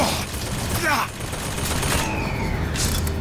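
Rapid gunfire bursts crackle in the shooter Bioshock Infinite, with repeated shots and a mechanical whine over a busy game backdrop while someone talks throughout.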